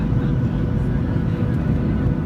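Steady, loud cabin roar of an airliner landing in Mexico, a constant low engine and wind rumble with no breaks for the whole moment.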